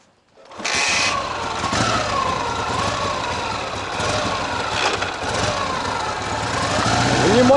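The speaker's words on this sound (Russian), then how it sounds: "Внимательно слушаем двигатель. Он сейчас холодненький, остыл." A cold Ural motorcycle engine runs close by with a steady, rough rumble that holds throughout and grows slightly louder toward the end.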